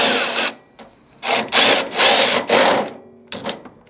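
A cheap cordless 3/8 electric ratchet works a fastener loose, several loud close whirring bursts with short pauses between them.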